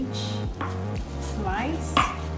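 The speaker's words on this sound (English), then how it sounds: "Now I'm gonna cut it in cube as well." A knife cutting food into cubes for a mango chicken salad, giving several close, crisp chops on a board at an uneven rhythm, one sharper knock near the end.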